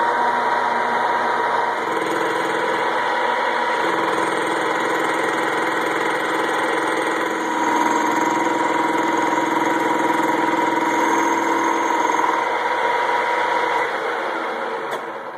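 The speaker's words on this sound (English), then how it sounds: "with the aluminum, we're actually going to change the speed on the lathe up to 1200 RPMs" A lathe spins steadily at 1200 RPM turning an aluminum fork leg, a continuous close mechanical hum and whine with faint cutting noise running unbroken throughout.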